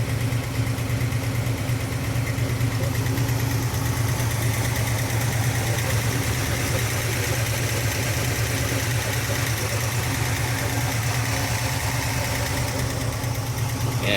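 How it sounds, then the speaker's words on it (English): A 1971 Chevrolet Nova with a 454 V8 idles steadily up close, its solid lifters ticking in a constant rhythm over a deep, even rumble, with no talking. "You hear those solid lifters bouncing around in there."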